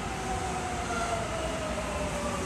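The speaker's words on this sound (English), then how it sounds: "There goes the train, guys." A train passes at a Los Angeles station at sunset, a steady loud rumble of wheels and cars with a thin squealing tone drifting across it, no voices over it.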